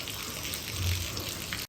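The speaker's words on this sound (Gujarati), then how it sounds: "આ વરસાદ અત્યારનો જે વરસે ને મઘા નક્ષત્રનો છે" Monsoon rain falls steadily as an even, close hiss of drops with no voices.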